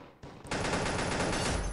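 Sniper fire in the mobile shooter Pixel Gun 3D builds in two quick steps into a dense, loud, continuous volley of gunshots with no voices.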